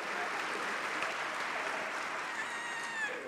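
An audience in a hall applauds at an awards-style event, with dense, even clapping that holds steady throughout and a faint voice surfacing near the end.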